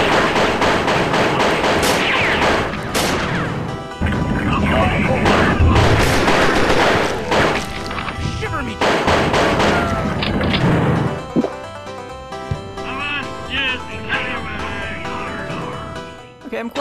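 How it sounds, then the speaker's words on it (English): Rapid gunfire from dual pistols in the video game Pirate Doom, dense repeated shots and crashes loud throughout amid chaotic game sounds, thinning to scattered hits toward the end. "I'm quite satisfied with the efficiency of the dual pistols."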